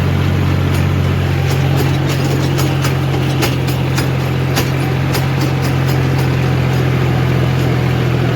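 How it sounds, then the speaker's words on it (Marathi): A tractor runs steadily while tilling a field with sprouted maize, its engine giving a loud, constant low drone with no drop in revs, broken by faint scattered clicks. "तरी ट्रॅक्टर RPM ड्रॉप करत नाही आपलं"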